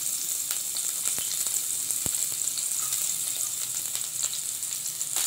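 Chopped ginger and garlic sauté in hot oil in a pan while a vegetable soup is being made. A steady, close sizzle runs throughout, with occasional light clicks from stirring.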